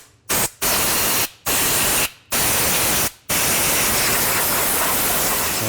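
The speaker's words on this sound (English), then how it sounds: "just take a blowgun and just blow off some of the dust and dirt that's in there" Compressed air from a blowgun hisses in several short bursts, then in one long continuous blast, clearing dust and dirt from the intake of a 2006-10 Volkswagen Jetta; the spray is close and loud.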